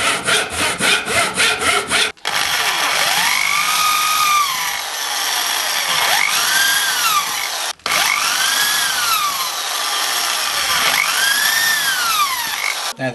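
A power saw cuts through pallet wood for chair cross braces, three long loud passes with rising and falling whine, short breaks between them, after a brief rhythmic rasp at the start.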